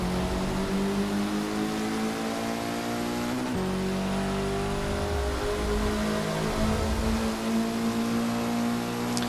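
A 2004 Lancer Evo VIII MR in Forza 6 holds a loud, steady engine drone at high revs, with one quick gear shift partway through and no talking.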